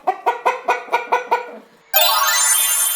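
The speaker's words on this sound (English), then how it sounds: "Henny goes cluck cluck to let everyone know she's working hard." A hen on a farm gives seven quick rhythmic clucks, close and clear, then a pause before a burst of loud broadband noise.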